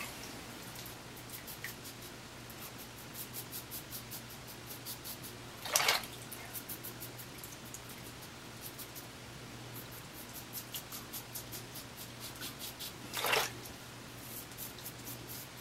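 A razor scrapes through lather on a cross-grain second shaving pass in soft, quick, rhythmic strokes, close but faint, with a couple of brief louder rinsing splashes.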